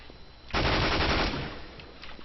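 A burst of M4 rifle fire in Counter-Strike: Global Offensive on the Inferno map, a dense rapid volley of about three-quarters of a second, loud and close, followed by a fading tail and faint game ambience.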